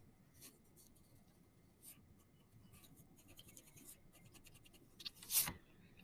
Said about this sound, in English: Now I'm going to erase what is running through or what I don't need